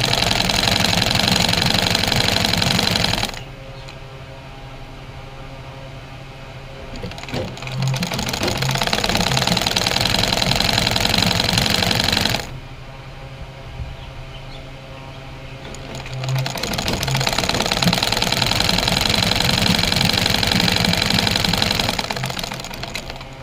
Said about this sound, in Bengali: ভাঁজ দিয়ে লাগিয়ে নিচ্ছি। সেলাই দিয়ে এটাকে নেব।